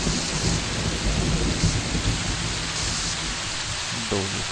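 Heavy in-game rain from Fallout New Vegas pours steadily with a deep rumble of thunder rolling underneath, loud and continuous throughout.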